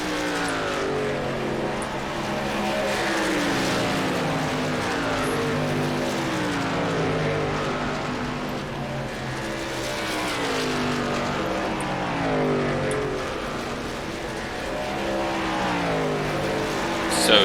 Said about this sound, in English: So 10th place car, Clavitt, about to go a lap down, it looks like